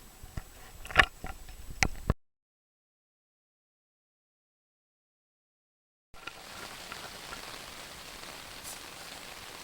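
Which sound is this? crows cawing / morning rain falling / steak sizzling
morning rain falling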